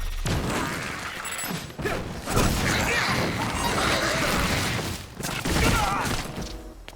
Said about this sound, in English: let's turn on Fire Sword